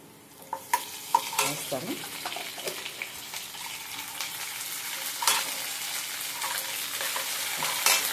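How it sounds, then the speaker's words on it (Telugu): Onion and ginger paste frying in a pan, with soft sizzling and repeated stirring scrapes and clinks, fairly quiet and close, while a brief word is spoken. "చూసారా, ఎర్రగడ్డ అల్లం పేస్ట్ వేగిపోయింది"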